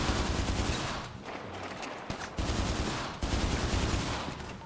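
Sustained automatic gunfire in GTA 5 during a police shootout in a tunnel, dense rapid bursts that briefly drop and resume, loud and close with no talking over it.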